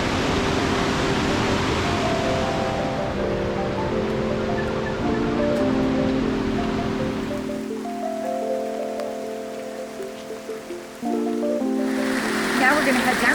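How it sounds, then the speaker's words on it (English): Heavy downpour in a dense Costa Rica rainforest, a steady loud hiss of rain filling the scene beneath soft background music and some talking. "The rain has definitely picked up. It is now downpouring."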